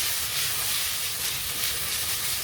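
Broccoli stir-frying in a pan for a shrimp dish, giving a continuous soft sizzling hiss that holds at an even low level for the whole moment.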